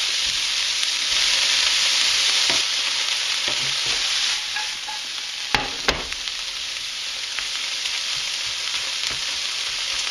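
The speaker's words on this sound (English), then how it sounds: "what we're looking to do here is caramelize the onions." Onions frying for caramelization, a constant close sizzle with a few sharp clicks and knocks of a utensil against the pan midway.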